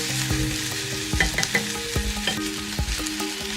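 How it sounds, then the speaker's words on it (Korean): Onions and bacon sizzle steadily in butter in a hot white Corningware pot, with occasional scraping stirs and clinks close up. "달군 냄비에 버터를 넣고 달게 썰은 양파와 베이컨을 볶아주세요."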